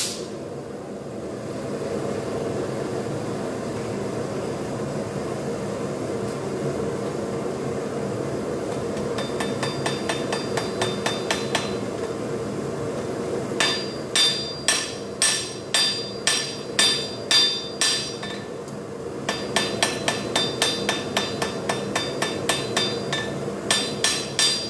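Blacksmith hammering a flint and steel striker flat on an anvil: after a quiet stretch of background hum, a steady series of sharp, ringing metallic blows lands in regular rhythm, close and clear.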